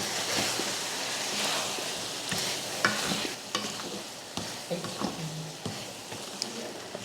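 A spoon stirs masala powder into country chicken curry in a hot pan, giving repeated clattering scrapes and knocks over a constant frying sizzle, close and busy throughout.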